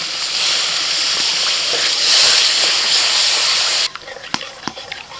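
Loud hissing sizzle as water hits spices frying in oil in a hot pan, lasting a few seconds before dropping to quieter bubbling and crackles.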